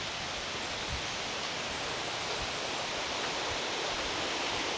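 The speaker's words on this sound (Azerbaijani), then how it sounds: "Şəlalənin yuxarı tərəfidir o buralar." A waterfall near Pakse, Laos, heard from above its drop: a steady, even roar of rushing water with no breaks and no voices.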